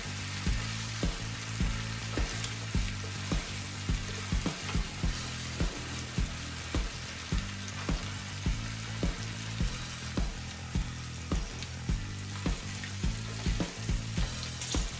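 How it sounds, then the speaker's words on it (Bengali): Chicken pieces with peas and garlic frying in a pan for Bengali kosha murgi, a steady sizzle under a brisk, repeated rhythm of spatula scrapes and stirs, close and continuous with no talk. "এখন আমি মটরশুঁটি, রসুন এবং মাংস সবগুলো ভালোভাবে ভুনিয়ে নিব এবং কষিয়ে নিব।"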